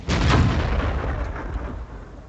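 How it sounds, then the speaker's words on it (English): A tank cannon shot glancing off armor in a tank battle game lands as one heavy, close boom with a booming low-end roar that slowly decays over about two seconds. "He bounces a shot off me."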